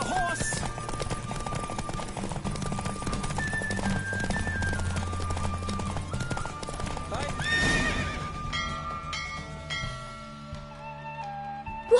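Horse hooves gallop in a steady clip-clop rhythm in the video game The Witcher 3, with a whinny rising above the running. Background game music plays throughout.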